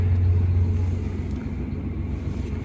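A tractor just collected from repair drives slowly in freezing weather on summer diesel, its engine a steady loud low rumble throughout with no voices.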